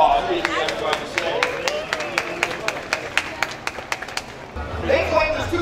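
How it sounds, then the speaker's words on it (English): Scattered applause with sharp, separate claps rises from an outdoor crowd watching a Christmas boat flotilla on the New Bern waterfront, steady for a few seconds and then fading as background noise swells. "Give them a round of applause."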